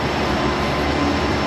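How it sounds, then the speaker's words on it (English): Ventilation fans in an engine dyno cell at a diesel performance shop, a loud, steady broadband roar with no breaks and no voices. "He just fired up the dyno cell, the fans."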